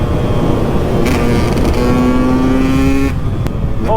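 A KTM 125 EXC motorcycle rides along a coastal road, its engine droning steadily and loud, the tone rising through the revs and then dropping sharply near the end as it brakes and shifts down.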